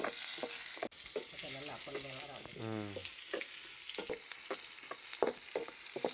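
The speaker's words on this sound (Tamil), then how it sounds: "வெங்காயம் வந்து பார்த்திங்கன்னா நல்லா வதங்கட்டும்." Onions, green chillies and curry leaves sautéing in oil in a pan for a green pea gravy, giving a soft, steady sizzle with light stirring scrapes and a brief utensil tone partway through.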